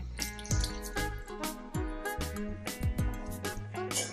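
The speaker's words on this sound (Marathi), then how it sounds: "मेथी जराशी परतली की घालते अर्धी वाटी पाणी" Half a cup of water poured into a pan of sautéed fenugreek leaves, a close splashing pour with bubbling and sizzling bursts, alone and fairly quiet.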